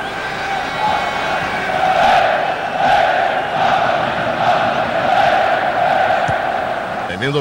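A football stadium crowd at a 1992-93 Serie A match between Milan and Brescia roars continuously, swelling in rhythmic chanting waves, with a commentator talking over it.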